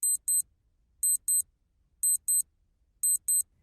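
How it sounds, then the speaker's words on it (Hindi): A beeping alarm clock rings from under a sleeping bag, playing four evenly spaced pairs of sharp, high double beeps, each pair about a second apart, muffled but clear against near silence. "स्लीपिंग बैग के नीचे एक अलार्म क्लॉक भी रखी हुई थी, और जिसका अलार्म बजने वाला है ठीक 4 मिनट में"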